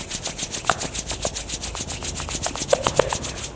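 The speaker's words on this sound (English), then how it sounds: "Rub your palm." Two palms rub briskly together during a yoga relaxation exercise, a close, soft swishing repeated in a fast even rhythm of strokes, with faint small sounds underneath and no talking.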